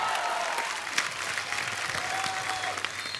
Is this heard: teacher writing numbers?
no